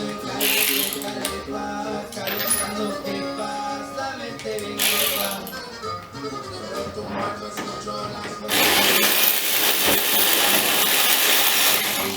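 Ratchet wrench loosening a bolt on a Chevrolet S10 pickup truck, heard as repeated mechanical clicking and clanking that runs under music-like background sound, growing louder and denser near the end.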